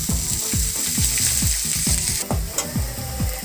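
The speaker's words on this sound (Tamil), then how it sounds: "இது நல்லா பொரிஞ்சு வரட்டும். 3 வெங்காயம் பொடியாக கட் பண்ணி சேர்த்துருக்கேங்க." Three finely chopped onions and bay leaves fry in oil for a paneer masala, giving a loud, steady sizzle. Evenly spaced spatula scrapes repeat about three times a second, with no talking.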